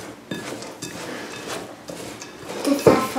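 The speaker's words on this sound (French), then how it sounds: "Et maintenant, il faut bien mélanger tous les ingrédients ensemble." Crushed peanuts, cinnamon and orange blossom water for baklava filling being mixed in a bowl, giving soft scraping and light clinks at an uneven pace, close by and fairly quiet.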